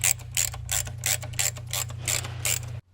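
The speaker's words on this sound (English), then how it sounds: "And just run those in and get them good and tight." Ratchet wrench tightening 8mm-head bolts on a throttle cable bracket of a Land Rover Discovery Series II engine, a close, steady run of about eight rapid clicking bursts over a low mechanical hum, stopping abruptly at the end.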